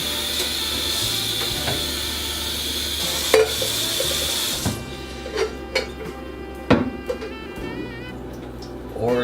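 Rice being rinsed in a pot for a budget meal: steady rushing water and swishing for several seconds, then scattered clinks and splashes as the grains are stirred and drained, with no talk.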